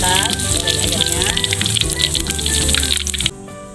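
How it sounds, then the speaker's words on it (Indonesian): Chicken pieces fry in hot oil in a home kitchen for soto Betawi, a loud, continuous sizzle and crackle that cuts off abruptly near the end, with a person talking over it. "Goreng ayamnya"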